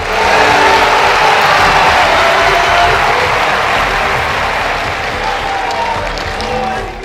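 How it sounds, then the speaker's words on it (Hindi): A large rally crowd bursts into loud, sustained applause and cheering for Atal Bihari Vajpayee, a dense roar of clapping that holds steady for several seconds. "एक बार तालियां बजाएं और आकाश तक सुनाई दें वो तालियां।"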